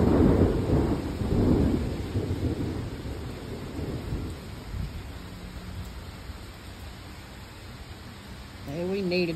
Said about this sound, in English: We really needed this rain.